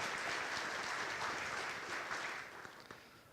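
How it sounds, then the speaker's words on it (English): Audience applause at a garrison update gathering, dense steady clapping that gradually thins and fades toward the end. "let's give them a big round of applause for actually showing up and having this happen"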